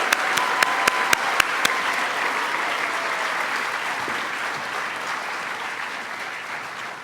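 An audience at a white coat ceremony breaks into loud sustained applause, opening with a few sharp distinct claps before settling into a dense, even wash of clapping that carries on steadily.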